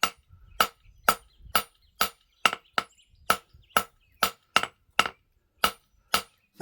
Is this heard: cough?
no